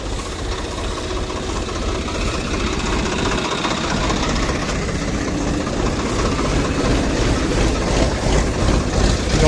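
Tractors on a farm idle with a steady low, rough engine rumble and faint knocking, constant and fairly near, steadily present with no talk over it.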